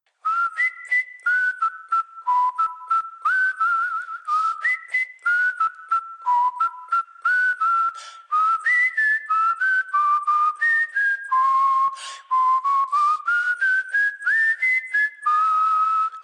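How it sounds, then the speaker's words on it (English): A man whistles a melodic tune alone, clear and close, in a long run of quick, bright phrases with brief breaths between them. "I hear it, I can whistle it, and it just is there."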